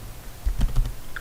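A computer keyboard is typed on up close, a short cluster of a few soft key presses within about a second, heard alone.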